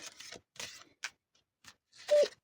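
Tarot cards being shuffled by hand: a handful of short, dry riffling bursts separated by brief pauses, quiet and close.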